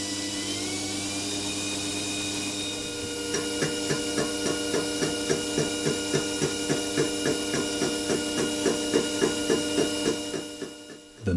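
A belt-driven mini milling machine hums steadily, then a fly cutter starts striking the workpiece in a fast, even series of ticks that continues for several seconds before the cut ends.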